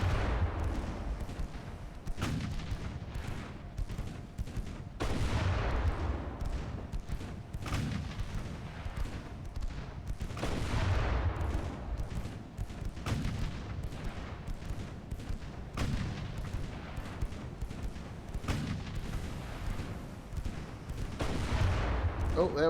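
Naval guns trade fire in the warship strategy game Ultimate Admiral: Dreadnoughts, deep booming salvos recurring every few seconds over a rumbling sea-battle backdrop, with quieter crackles between the heavy reports.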